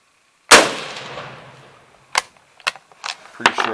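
An 1895 Chilean Mauser rifle fires one loud, sharp outdoor shot with a long decaying echo, followed by several metallic clacks of the bolt being worked.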